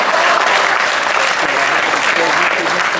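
An audience at a Hindi comic poetry performance at Kala Mandir in Bhilai breaks into loud, continuous applause. The dense clapping stays at an even level throughout, with no gaps.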